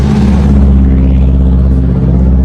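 A taxi's engine hums at a steady low rumble close by at night in the Ala-Archa mountain area, loud and continuous with no clear rise in revs.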